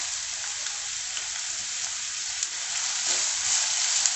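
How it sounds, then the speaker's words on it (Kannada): Finely chopped medium onions sizzle steadily in hot oil in a pan, a dense continuous frying hiss with no talk, growing slightly louder toward the end. "ಈರುಳ್ಳಿನ ಒಂದು 3 ನಿಮಿಷ ಚೆನ್ನಾಗಿ ಫ್ರೈ ಮಾಡ್ಕೊಬೇಕು."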